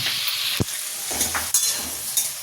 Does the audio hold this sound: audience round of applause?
no